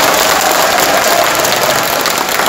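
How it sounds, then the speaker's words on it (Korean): Loud, thick applause from a large crowd of delegates at a national party convention fills the whole moment, steady and unbroken. "큰 박수 부탁드립니다"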